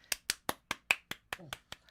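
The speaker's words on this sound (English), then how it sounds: "I'm clapping." Sharp single hand claps repeat at a steady, even pace, about nine crisp claps close to the listener, with a brief bit of voice slipped in between two of them.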